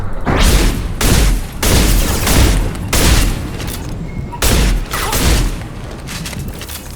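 Heavy gunfire during a Mass Effect Legendary Edition battle against Eclipse operatives: loud, booming bursts repeat about once a second, each with a short ringing tail, over continuous combat noise and no talk.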